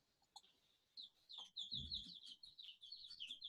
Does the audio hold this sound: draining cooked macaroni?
no